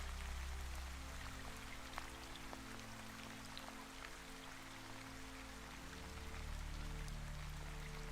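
Steady rain falling through a fantasy fair pavilion, a soft continuous hiss with scattered droplet ticks over a low rumbling bed, even and unbroken throughout.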